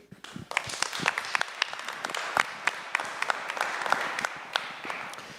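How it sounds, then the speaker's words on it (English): A small audience at a sound money event applauds a state representative, with sparse, distinct individual claps forming a moderate round of applause that stays fairly even throughout. "I just want everybody to give a round of applause to Representative Yuri."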